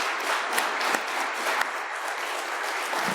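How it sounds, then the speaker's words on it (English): Conference audience applauding training instructors, a dense, steady wash of many hands clapping in a large room, continuous and fairly loud throughout. "I want to give a big round of applause to all our instructors for their hard work."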